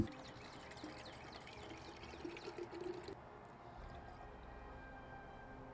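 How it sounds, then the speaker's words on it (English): Water is poured into a container, one liter in all, during half marathon prep, as a faint, steady trickling pour that stops partway through with no talk over it. "Let's start out by pouring in the water."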